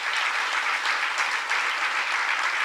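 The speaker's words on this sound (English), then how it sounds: "So how about giving them a great round of applause?" Sustained applause from a college convocation audience, steady and dense throughout with no pauses, filling the hall at a consistent loudness.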